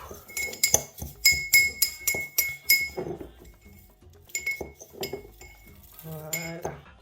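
Repeated metallic clinks and taps against a glass bowl as chili oil with basil and salt is stirred, in irregular bursts, close and fairly quiet.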